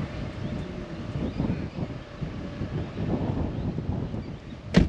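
Wind gusts across an outdoor cemetery, a steady broadband rumble and buffeting against the microphone with no voices, ending in a brief sharp knock.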